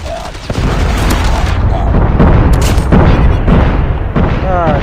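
A predator missile strike in COD Mobile, a loud, rumbling explosion with heavy booms and a sustained blast roar beneath a speaking voice.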